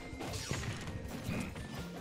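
An up smash attack lands in Smash Ultimate as a sharp impact crash partway through, set against a dense, steady wash of game sound and crowd noise.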